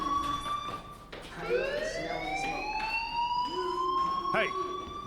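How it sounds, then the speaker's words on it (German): A wailing fire alarm rings inside the video game Life Is Strange, its rising tones sweeping upward and repeating steadily at moderate volume, with voices talking over it. "Hey, do you hear that fire alarm?"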